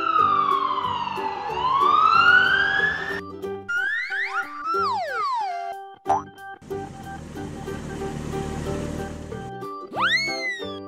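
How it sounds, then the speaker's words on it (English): Toy black police car siren with sweeping electronic wails and warbles, followed by a burst of noisy rumble and a final rising whoop, loud and close with no talking. "Black police car."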